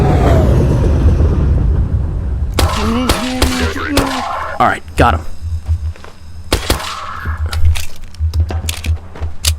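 Gunshots in a video game ring out as a series of sharp, separate cracks with dense bursts in the middle and later, over a steady low rumble, with brief speech in between.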